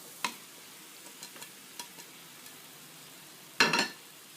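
A spoon stirs masala with tomatoes, curry leaves and green chillies frying in a pan, giving soft scattered scrapes and light sizzling, then one louder scraping clatter near the end, all fairly quiet.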